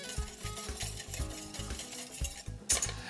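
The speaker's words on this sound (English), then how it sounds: "Give that a nice little mix." A custard egg mixture stirred into cream for crème brûlée, with a rhythmic series of spoon-against-bowl scrapes and light clinks repeating about every third of a second, close and moderately quiet.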